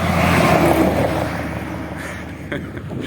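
A large vehicle rumbles past on a nearby road, loud at first and slowly fading as it moves away, with steady traffic noise behind.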